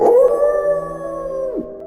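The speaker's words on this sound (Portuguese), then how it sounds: "Você já sentiu algum arrepio na espinha ao ouvir um uivo no meio da noite?" A single long wolf howl, loud and close, holds a steady pitch for about a second and a half and then slides downward as it fades out.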